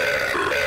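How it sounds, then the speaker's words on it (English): An auto-tuned burp set to a Custer's Revenge game sound gives a short, dense, buzzy tone that holds steady with a pitched synthetic character, loud and close. "they just auto-tuned my burp to the successful Custer's Revenge noise"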